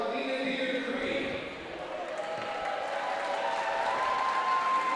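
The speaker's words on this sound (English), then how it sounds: "An energized crowd here tonight for this battle between the Yellowjackets and the Wolverines." Energized crowd at a high school volleyball match between the Yellowjackets and the Wolverines, applauding and cheering in a steady wash of noise with an announcer talking over it.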